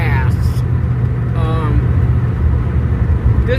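A Ford Fairlane's original 289 V8, fitted with a new Holley carburetor, rumbles in a steady low drone throughout, with a voice talking over it.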